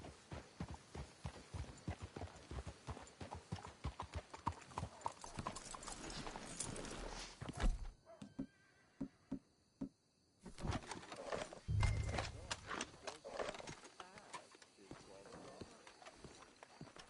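Horse hoofbeats in Red Dead Redemption 2, a quick clip-clop of several horses close by that slows and stops midway, then starts again, with a voice speaking over it.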